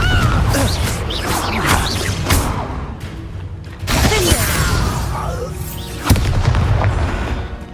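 Explosive fire-blast spells in Hogwarts Legacy boom over a dense battle din, with loud bursts and crashing debris repeating through the fight.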